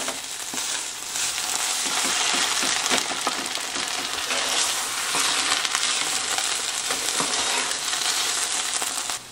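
Onions cooking down and caramelizing in a pan for canning give a steady, close broadband sizzle with scattered stirring clicks and scrapes throughout, no voices.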